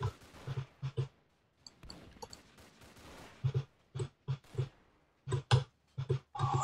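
Cannons firing in a Zeppelin airship battle video game: a string of short, sharp booms in irregular bursts, some clustered quickly together, separated by brief quiet gaps.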